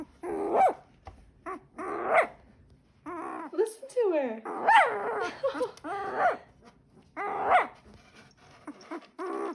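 Small high squeaks and whimpers from a 10-day-old Shepsky (German Shepherd–Husky mix) puppy come in short bursts, close by, mixed with a person talking softly.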